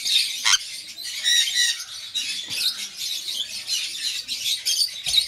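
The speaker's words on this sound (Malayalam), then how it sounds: "നമ്മൾ ഹാൻഡ് ഫീഡ് ചെയ്ത് ഇണക്കിയെടുത്തൊരു ഫീമെയിൽ ബേഡാണ്." A tame sun conure parrot squawks and chatters continuously in rapid, harsh, high-pitched bursts, close by and steady throughout.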